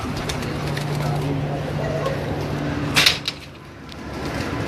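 Red-eyed show pigeons on a rooftop loft coo in a low sustained drone through the first few seconds, joined by a sharp knock or clatter near the middle, then a quieter stretch.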